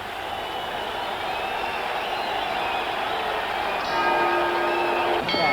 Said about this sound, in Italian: l'ultimo colpo di gong